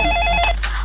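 A telephone bell rings in a home during a family squabble, a brief clear electronic trill with a couple of pulses, close and alone before talk resumes.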